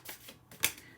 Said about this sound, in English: Let's do a shuffle here and see your energy.